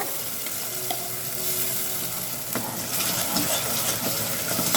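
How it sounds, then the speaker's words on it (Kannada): Freshly ground masala paste sizzles and crackles steadily in a pan on medium flame while being stirred, a continuous close frying hiss with occasional scraping, no talking. "ನಾನು ಇವಾಗ ರುಬ್ಕೊಂಡ್ಬಂದಿರೋ ಮಸಾಲನ ಸೇರಿಸ್ಕೊಳ್ತಾ ಇದ್ದೀನಿ"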